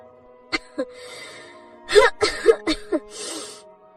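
A young cartoon bird gives a few light, breathy coughs, short soft bursts spaced apart, followed by a quick cluster of throaty coughs and a raspy breath.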